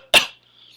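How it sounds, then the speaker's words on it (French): A single deliberate cough during a breathing exercise, sharp and close, dying away quickly into quiet. "Fait qu'on tousse."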